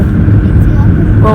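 Cars on the road on the way to Walmart, heard from inside a vehicle as a loud, steady, close road rumble with no break.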